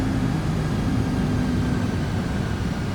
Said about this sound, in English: Sounds like this aeroplane is struggling just to maintain its speed